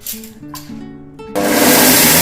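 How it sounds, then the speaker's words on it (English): A mixer grinder blends jowar batter for dosa, starting after a few short clicks and buzzes and then roaring loudly and steadily as its motor runs at full speed. "Now I am using mixer grinder."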